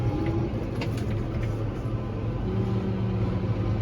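A farm tractor driving around a headland corner, its engine a steady low rumble heard close from the cab, continuous with no talking.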